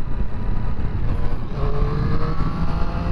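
A Triumph Street Triple RS motorcycle accelerates under riding wind, its engine note climbing steadily with brief dips where the quick shifter changes gear, loud and close throughout.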